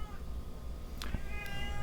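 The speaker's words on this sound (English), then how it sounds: "Crazy cat." A cat meows in a home setting, a couple of short, fairly clear calls near the middle over a steady low background hum, with no talking.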